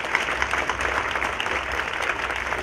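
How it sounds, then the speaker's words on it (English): Steady, dense clapping from an audience at a Cherry Blossom Queen coronation program, a sustained round of applause filling the whole stretch without pause. "Please give Dr. Kazuto Ishida a warm round of applause and stand."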